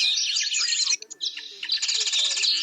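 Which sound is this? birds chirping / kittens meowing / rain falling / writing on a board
birds chirping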